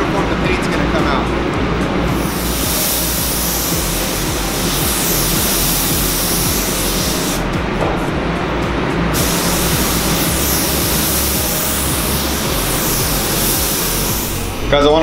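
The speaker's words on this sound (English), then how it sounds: "the more even and uniform you can run the gun, the more even and uniform the paint's going to come out" A spray gun lays clear coat onto carbon fiber, giving a loud, steady hiss of atomized paint that runs nearly unbroken for the whole stretch, with only slight dips in intensity.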